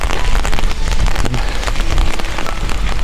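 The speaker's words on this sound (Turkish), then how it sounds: "bu yağmur şemsiye dinleyecek gibi değil" Heavy rain pours steadily in a Bulgarian village in April, a dense, loud hiss of drops pattering on a nearby surface without pause.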